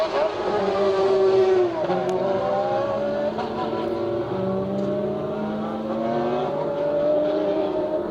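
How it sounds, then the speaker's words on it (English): Dallara F3 open-wheel race cars pulling away under green flag at Mondello Park qualifying, several engines howling and rising in pitch at once, loud and sustained, with a commentator speaking over them. "Cian Carey is there with his F320 Dallara F3, and they just got the green flag and away"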